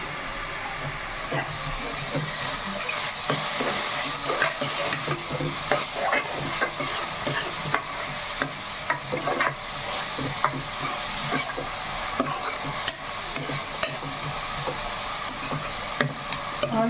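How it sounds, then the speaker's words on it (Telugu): Farm chicken pieces with two green chillies fry in a pan, browning steadily: a loud, continuous crackling sizzle runs throughout with scattered sharp pops and stirring scrapes, and no voices. "ఒకసారి బ్రౌన్ కలర్లో బాగా వేగాలి"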